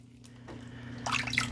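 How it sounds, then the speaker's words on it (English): Cold running water splashes over homemade butter as it is rinsed clean of leftover buttermilk, a steady tap stream under a low hum that grows louder and more splashy toward the end. "I'm going to run it under cold, clear water just to make sure that it's, you know, all out, all the buttermilk"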